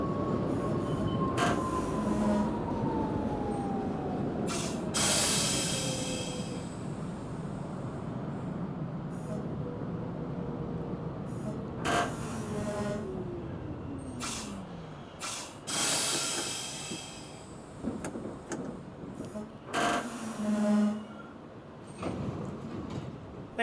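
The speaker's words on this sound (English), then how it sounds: "Brooklyn Bridge bound 6 train." A Brooklyn Bridge-bound New York 6 subway train runs between Bleecker Street and Spring Street, with a steady roar and hiss broken by descending motor whines and bursts of rattling clatter.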